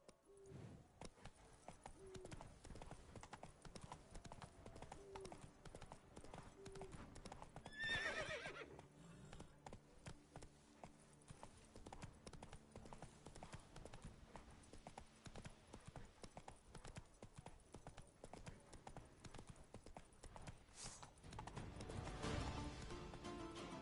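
Hooves of the horse Roach galloping steadily in The Witcher 3, a fast continuous clip-clop rhythm at moderate level with a brief neigh partway through and game ambience underneath.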